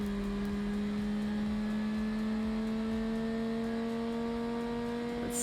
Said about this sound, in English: it's time for the top speed test on the V10 Bastion